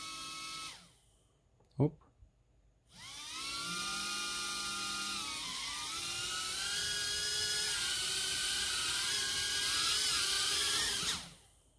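Quadcopter motors controlled by a Flysky FS-i6 transmitter spin up after a short tap, then hold a steady, loud, wavering whine with shifting tones for several seconds before cutting off.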